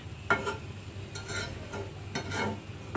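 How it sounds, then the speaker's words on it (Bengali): Spinach and other leafy greens are stirred in a pot, giving soft, faint scraping and rustling strokes at a slow, uneven rhythm over a low, steady simmer, with no voices. "এবার শাকটাকে নাড়াচাড়া করে দিই"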